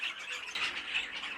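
Cage birds squawk continuously in breeding cages, a dense overlapping chorus of harsh, high calls at steady moderate loudness with no talk over it.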